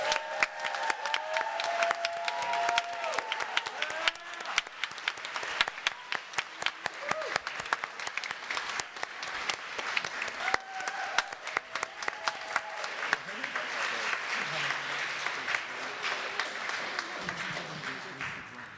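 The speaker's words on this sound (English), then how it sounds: "let us all give our players a rousing round of applause" A church congregation applauds the players after a Unitarian Universalist Christmas pageant, steady, crisp clapping from many hands that carries on for nearly twenty seconds, fading a little near the close.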